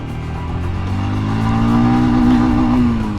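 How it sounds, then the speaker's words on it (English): A Royal Enfield Scram 411 single-cylinder motorcycle accelerates with a loud, steady engine drone whose pitch rises gradually, heard close up from the rider's position with wind noise. "So let's see how this thing does when accelerating."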